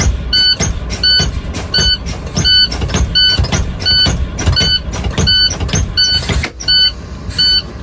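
Truck air brakes being pumped during a CDL in-cab brake check, heard as a loud, evenly repeating cycle of about a dozen sharp hissing bursts with bright whistling tones, close by and with no talking.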